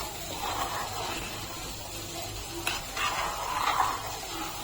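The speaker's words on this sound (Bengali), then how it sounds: "আমি এখন এই মশলাটা খিচুড়ির মধ্যে দিয়ে দেব। মশলাটা দিয়ে ভালো করে মিশিয়ে নেব।" Fried spice paste is stirred into sago khichdi with a soft, continuous scraping and a low sizzle, broken by a few louder clatters of the spoon against the pot.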